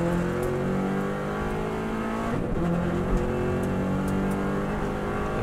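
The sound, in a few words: Subaru WRX STI engine at full throttle on Isle of Man lap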